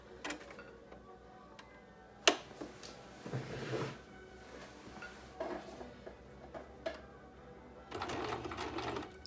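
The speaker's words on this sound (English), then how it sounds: "we're gonna sew along the straight part, the bottom part first on each one" A sewing machine stitches along the straight bottom edge of fabric pieces for a no-fog face mask, running in short bursts of rapid ticking with pauses between, close and fairly quiet.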